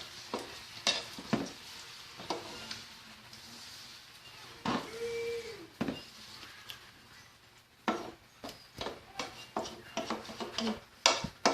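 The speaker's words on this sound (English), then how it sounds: "Let it catch up in temperature. Starts to bubble." Beanie weanie sauce heating in a pan on the stove starts to bubble and sizzle, with intermittent sharp clicks and scraping stirs of utensils against the pan breaking up the quieter simmer.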